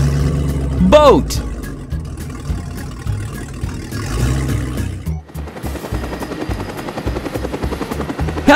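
A helicopter's thumping rotor chops steadily and loudly, with a brief rising whine early and a shift in engine texture midway.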